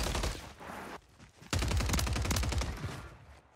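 Automatic gunfire rattles in Call of Duty on Rebirth Island, a loud, dense burst of rapid shots that breaks off briefly, then resumes in a heavier sustained stream for about two seconds.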